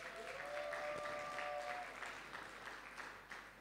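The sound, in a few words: audience applauding and cheering for the Lord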